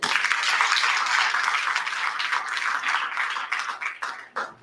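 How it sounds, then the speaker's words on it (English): Sustained audience applause and clapping at a one-day orientation and honoring program, loud and dense at first, then thinning into scattered claps toward the end. "Give yourself a round of applause."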